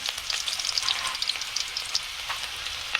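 Garlic sautéing in hot cooking oil in a pan, a steady bright sizzle with crackling pops throughout, close and moderately loud with no voices.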